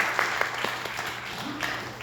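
A church congregation at a Korean Methodist Sunday service in Minnesota claps to welcome returning members and visiting guests, giving light, uneven applause in a room, with a faint hum underneath.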